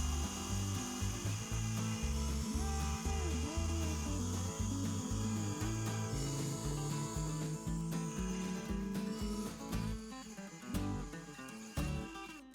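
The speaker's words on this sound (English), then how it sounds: "For some of the more awkward spots, I use sanding bits on the rotary tool." A rotary tool fitted with sanding bits grinds against a vintage steel hammer head, giving a steady, gritty whirring that runs under background music.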